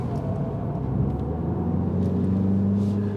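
Car engine idling and humming at a race track, a low, steady droning rumble that holds close and even throughout the short stretch.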